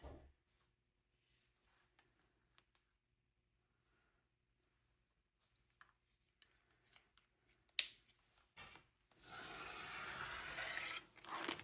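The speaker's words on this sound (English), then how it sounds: "Let's grab our rotary and our ruler. And we're going to trim off the part that is too large." A rotary cutter trims fabric along a ruler, giving a short rolling, rasping cut after a few faint taps and handling clicks, then a longer steady scraping swipe near the end.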